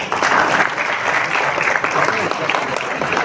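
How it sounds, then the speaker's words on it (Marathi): An audience at a technical exhibition at a government ITI in Chandrapur breaks into loud, sustained clapping that holds steady throughout as a welcome. "आपण टाळ्या वाजून त्यांचं स्वागत करूया"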